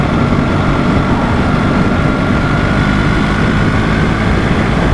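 A BMW R 1300GSA motorcycle engine runs while riding, a steady, loud, low drone with wind rush and no change in pace.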